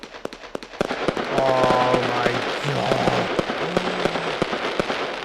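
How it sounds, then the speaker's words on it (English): Crackling gold rain fireworks in the Fireworks Mania game: dense, continuous crackle and popping bursts over a few seconds with sharp transients, while an excited voice reacts over the display. "That's a lot of crackling."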